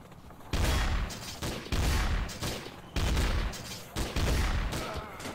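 Sniper rifle shots in the game Garry's Mod Trouble in Terrorist Town, several loud booming reports in quick succession with short gaps between them.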